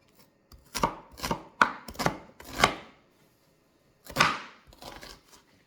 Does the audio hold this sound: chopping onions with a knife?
yes